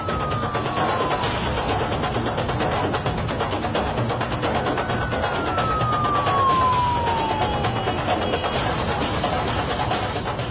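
A distant siren wails and slowly falls in pitch over a constant rumble of road traffic.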